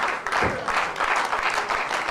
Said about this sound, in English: Crowd now rallying.